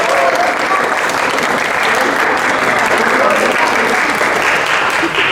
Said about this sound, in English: So ladies, please give it up for your parents and friends.